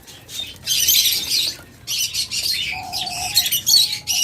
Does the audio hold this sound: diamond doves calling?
yes